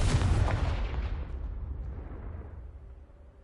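A fiery Confringo spell blast in Hogwarts Legacy, one loud booming explosion at the start that rumbles and slowly fades away over a few seconds, heard alone.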